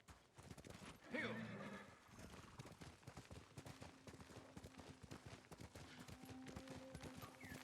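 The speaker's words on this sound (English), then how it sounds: "I like how my horse was conveniently waiting right here for me." A horse in the samurai video game Ghost of Tsushima gives a brief whinny, followed by a steady clip-clop of hooves with scattered game sounds and background tones.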